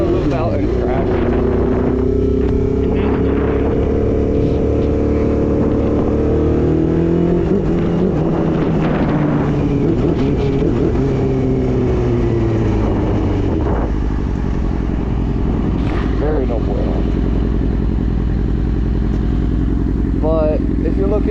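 A Suzuki GSX-R 750 motorcycle engine drones steadily through the whole stretch, its pitch sliding up and down as the rider shifts and cruises, with wind and a voice talking over it.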